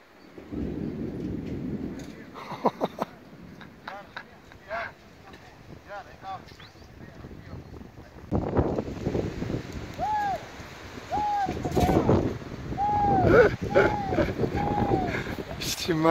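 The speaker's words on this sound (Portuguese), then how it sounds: "vem uma tempestadezinha meio braba" Gusty wind buffets the microphone with a steady wash of rain-like noise during a wild boar hunt, while several voices speak and shout over the roaring storm.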